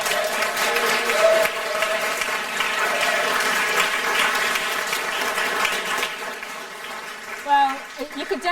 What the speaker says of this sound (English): let's just start off the weekend with a huge round of applause to the people who actually...